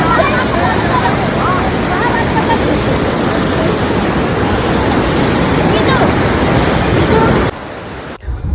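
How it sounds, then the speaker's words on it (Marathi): A loud, constant roar of rushing water, like a waterfall, fills the scene steadily before dropping off abruptly near the end. "धबधबा बघू शकता कसा आहे बघा धबधबा"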